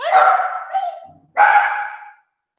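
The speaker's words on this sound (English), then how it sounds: "Sorry, that's my dog." A pet dog in a house gives two loud, drawn-out barks separated by a short pause, close by and heard alone.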